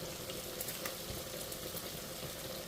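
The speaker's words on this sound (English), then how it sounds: "You can hear that sizzling." Garlic sizzles hard in about two tablespoons of oil in a frying pan, a steady close crackling hiss with small spitting pops, alone without talk.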